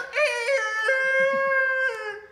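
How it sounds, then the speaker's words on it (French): A rooster crows once in a long, clear, drawn-out call that holds steady before tailing off, loud and close with nothing else around it. "Avec le coq."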